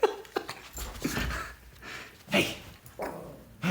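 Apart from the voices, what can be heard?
Chihuahua barking and whimpering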